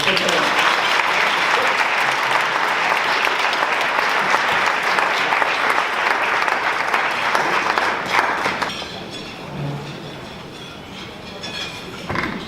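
A large audience gives a sustained round of applause welcoming a keynote speaker, dense clapping that holds steady for about eight seconds before thinning out as a voice begins.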